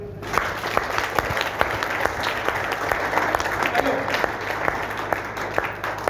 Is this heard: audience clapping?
yes